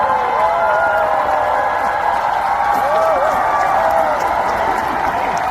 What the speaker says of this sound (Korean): 우리 밴드 형님 누님들에게 다시 한번 큰 박수 부탁드리겠습니다